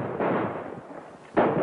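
A shotgun blast in a 1936 crime film, heard as loud booming bursts with a dense, roaring decay and a second heavy report following close behind.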